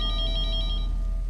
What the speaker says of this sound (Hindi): Landline phone?